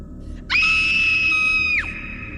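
A woman's long, piercing scream, a horror-story sound effect, rises sharply and holds steady for over a second before cutting off, loud and alone with no talk over it.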